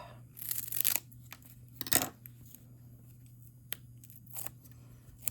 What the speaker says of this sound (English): grab a piece like this, a piece of my bigger foam tape, and cut it down to about right there, and cut it in half